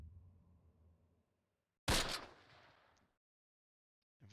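A single heavy gunfire burst in the Close Combat World War II tactical game, Panthers in the Fog, set at Le Vieux Bourg, a sharp loud crack with a decaying rumbling tail after low background noise, with a faint second shot starting at the end.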